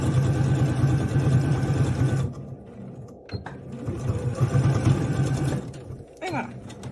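A domestic sewing machine runs in two short bursts of rapid whirring while backstitching a Christmas tree-shaped fabric napkin, with a pause between them and small clicks after.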